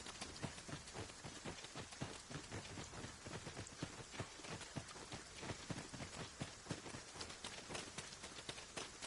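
Steady rain pours in a video game, a dense, even hiss of drops on surfaces running unbroken throughout with no voices over it.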